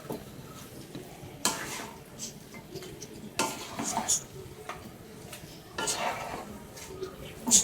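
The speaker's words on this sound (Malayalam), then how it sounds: "ഒന്ന് മിക്സ് ചെയ്ത് കൊടുക്കാം." Kappa biriyani mixture of tapioca and meat being stirred in a pot, a scraping, shuffling stir with several louder sweeps of the spoon against the metal over a low sizzle, nearby and moderately loud.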